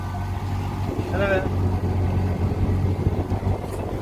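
An auto rickshaw engine idles near Bhiwandi with a steady, close low hum, while people talk over it throughout.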